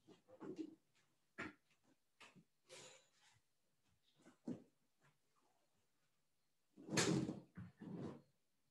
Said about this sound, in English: I will close the door so that I don't have so much